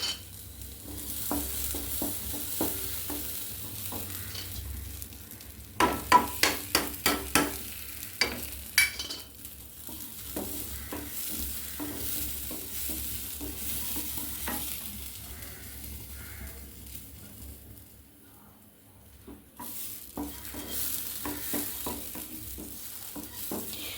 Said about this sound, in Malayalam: എള്ള് ചൂടാക്കാം. എള്ള് വറുക്കാം നമ്മൾ.